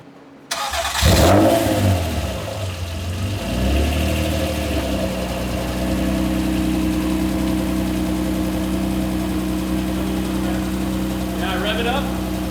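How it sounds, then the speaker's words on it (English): A Honda NSX with a new exhaust, sitting on a hoist in a garage, fires up, gives a quick loud rev, then settles into a steady, throaty idle. "first we're gonna start off with getting some stationary audio with the NSX on the hoist"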